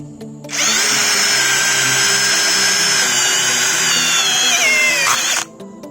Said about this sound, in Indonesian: kita akan tes menggunakan mata bor yang 5 mili ya